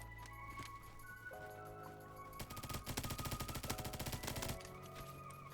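Rapid bursts of MP5 submachine gun fire in the Roblox game Bad Business, a fast automatic volley in the middle of the clip over quieter game sounds and a tonal background.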